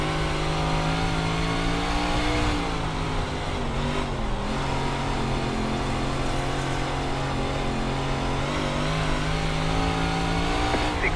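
Dirt 358 modified race cars roar around Volusia Speedway in the iRacing sim, a continuous loud engine drone with shifting pitch as the cars run in a pack, with no voices.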